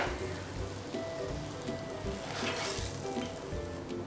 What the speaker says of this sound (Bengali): এভাবে সব পরোটাগুলো ভেজে নেব